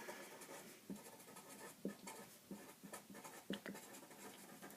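A pen writes by hand on paper during a circle theorems lesson, with soft close scratching strokes and small taps as each mark is made.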